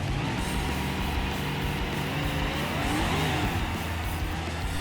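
A supercharged V8 in a Gavril Barstow drag car in BeamNG accelerates hard, a steady loud engine roar rising in pitch through the gears, with no voices.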